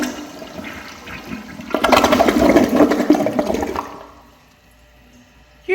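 A Kohler Wellworth Highline Classic toilet flushes its bowl rinse, a loud rushing burst of water that fades into a quieter trickle as the tank refills.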